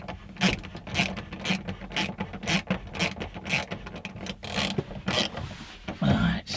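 Ratchet undoing a bolt on a Nissan Primera P12, close rapid clicking strokes in a steady back-and-forth rhythm, about a dozen bursts, with no talk.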